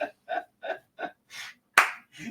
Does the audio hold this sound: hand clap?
yes